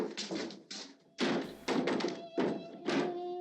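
Boards are hammered over a door in the 1968 horror film Night of the Living Dead, giving a run of hollow wooden thunks and knocks in uneven bursts at a moderate level with a faint ringing hum behind.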